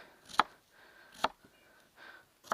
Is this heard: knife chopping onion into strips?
yes